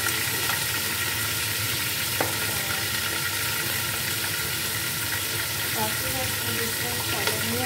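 Garlic-ginger paste sizzles in a pan, a loud, close, continuous frying hiss with a few small clinks and pops, and no one speaks.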